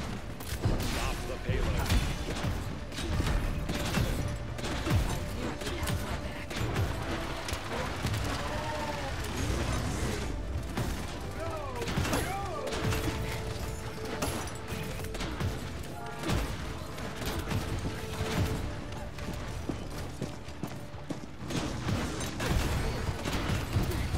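Rapid gunfire and impact crashes from the video game Paladins, dense and continuous with bursts of shots and clattering effects, while a voice talks over the battle.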